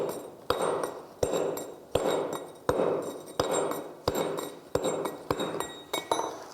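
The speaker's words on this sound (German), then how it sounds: "Habe hier die Variante mit dem Knüpfel gewählt." Steel chisel driven by a wooden mallet (Knüpfel) to smooth a stone surface, the strikes falling in a steady rhythm of about ten sharp, ringing clinks, each with a short decay, close by and alone.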